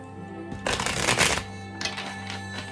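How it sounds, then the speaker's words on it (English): A deck of tarot cards is riffled and shuffled twice in quick succession, crisp papery flutters close by with a short pause between. "I'm feeling 2 more shuffles."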